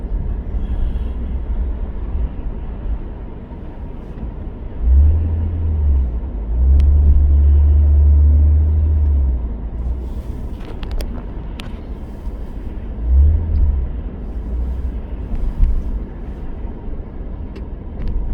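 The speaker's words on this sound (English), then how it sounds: "Oh my goodness, as far as the eye can see, traffic jam" Steady low rumble inside a car crawling through a traffic jam, picked up by a phone dash cam, with a few heavier swells of engine drone rising and fading.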